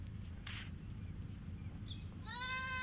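A goat bleats loudly and close by near the end, a quavering call rising over a steady low farmyard hum and faint scattered noises at a goat-rearing farm.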